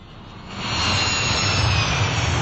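An airplane lands at an airport with a loud, steady jet roar that swells after the first half second and then holds, with no voices.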